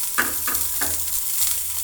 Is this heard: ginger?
yes